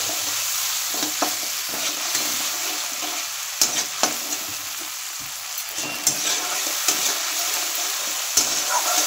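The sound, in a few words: tomato paste being sautéed in a pan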